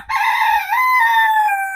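A rooster crows once, loud and close, a long drawn-out call with a rising middle and a fading tail, heard alone without talk.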